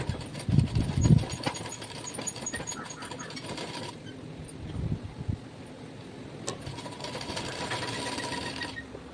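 A sewing machine stitching cloth for a lungi, its rapid steady mechanical whir running continuously with a few louder bursts and slight changes in speed, close and prominent throughout.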